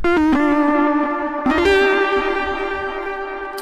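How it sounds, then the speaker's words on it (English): A Sylenth synthesizer patch from the Arcson sound set plays a few bright, gritty notes with sharp attacks, then holds a long tone that fades slowly, heard alone with a reverberant, echoing tail. "a patch from the Arcson sound set for the Sylenth."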